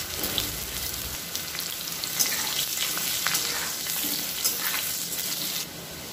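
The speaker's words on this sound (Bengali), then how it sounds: "এই তেলের মধ্যেই এবার আমি আলুগুলোকে লাল করে ভেজে নেব।" Potatoes fry in hot oil for egg masala curry, a loud, dense, close sizzle with scattered crackles that holds steady for several seconds and eases slightly at the end.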